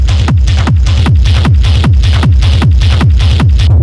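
Schranz techno kick and rumble bus with light amp saturation: a loud, driving four-on-the-floor pattern of punchy kicks with a distorted low rumble, roughly eight hits per second-and-a-half in steady rhythm, no voice.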